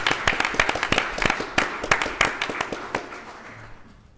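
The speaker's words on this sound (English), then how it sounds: "Please join me in a big round of applause." Audience claps at a village council meeting, a run of sharp, distinct claps from a modest group of people that thins out and fades after a few seconds.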